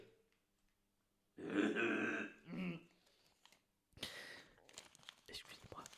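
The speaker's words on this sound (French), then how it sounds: "Excusez-moi, je vais devoir tousser." A person coughs close to a microphone in a couple of rough bursts, followed by throat clearing and a few breathy, guttural sounds in an otherwise quiet room.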